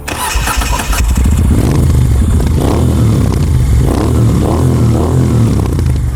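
A Moto Guzzi V9 Bobber motorcycle engine starting and settling into a loud, throbbing idle, heard up close and steady.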